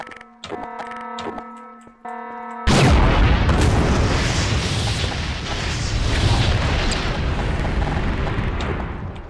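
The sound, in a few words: explosion in a video game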